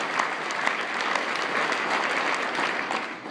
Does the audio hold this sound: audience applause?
yes